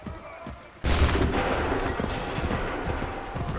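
Musket volley in Assassin's Creed 3: after a short lull, a sudden loud burst of massed gunfire erupts, followed by a sustained rumbling, crackling roar from many firing muskets that does not let up.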